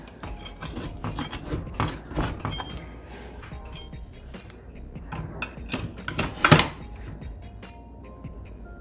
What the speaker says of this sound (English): So let's cut into our cookie bar here.